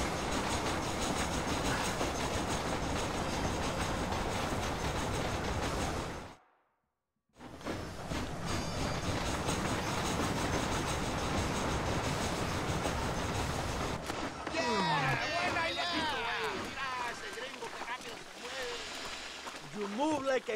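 A moving train in the video game Red Dead Redemption, a loud steady rolling rumble with clattering that briefly cuts out, then continues under spoken dialogue.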